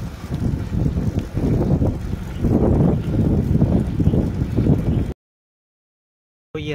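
Riding a bicycle outdoors: heavy wind buffeting and rushing air noise dominate with low rumble from the road, continuous for several seconds, then a sudden cut to silence and a brief return of noise.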